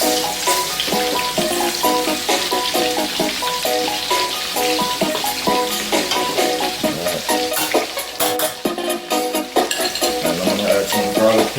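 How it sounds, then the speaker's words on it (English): Garlic fries over medium heat in a pan for creamy Jamaican-style pork chops, a constant loud sizzle with stirring and scraping throughout. "I'm going to add my garlic."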